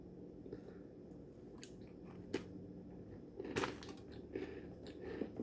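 Orange shortbread cookies are bitten and chewed close to the microphone, with a few sharp crunches followed by quieter irregular munching and crumbly chewing sounds.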